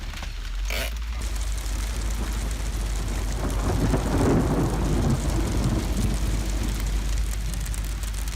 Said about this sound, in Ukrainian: машину б'є градом, ми ставимо дах